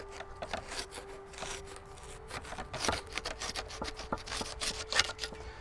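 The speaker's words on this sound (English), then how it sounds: "And I could probably do with a deeper sickle saw for this." A sickle saw rasps through a dense juniper root mass in a bonsai project, with repeated short scraping strokes, close and fairly quiet, in an uneven rhythm.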